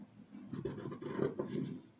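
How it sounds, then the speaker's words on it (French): Close, quiet snipping and rasping as scissors cut through material, a few crisp strokes in a row. "tu prends une paire de ciseaux et hop, tu coupes"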